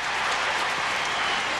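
Steady, dense roar of a large stadium crowd cheering and applauding at the 2004 NCAA lacrosse championship game between Syracuse and Navy in Baltimore, continuous and loud throughout.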